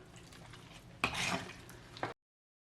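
Soft scraping and clinking of a spoon stirring thick drumstick and shrimp curry in a pot, with a couple of louder knocks against the pan's side.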